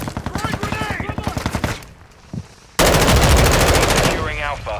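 Automatic gunfire from Call of Duty: Modern Warfare II, loud and close, in a sustained burst after game voices and a quieter lull, with sharp rapid rattling shots dominating the second half.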